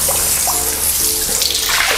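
Water runs steadily into a settling tank being filled to the top, a continuous, fairly loud rushing pour with no talk over it.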